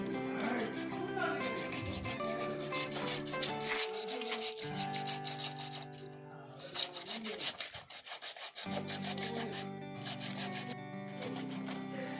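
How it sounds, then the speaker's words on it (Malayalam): A katla fish from a pond is scrubbed with coarse rock salt to strip away its slime, producing a rasping, repeated rubbing under steady background music. "നമുക്ക് ഈ കല്ല് ഉപ്പ് വെച്ചിട്ട് നന്നായിട്ട് അങ്ങോട്ട് ഉരച്ചു കൊടുക്കാം"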